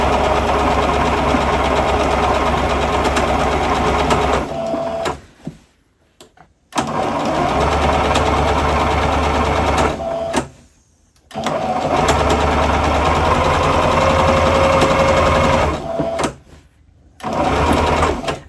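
A sewing machine runs in long, steady bursts while stitching rows of gathers in fabric, pausing briefly between bursts; the whirring is loud and close with no talk.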